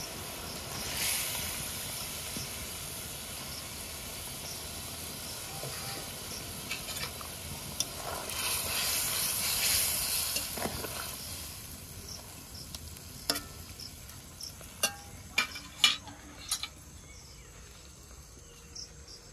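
Eggplant and eggs go into a simmering curry, and a steady bubbling sizzle hisses throughout. A few sharp clicks and taps of ingredients or utensils land near the end, with no speech.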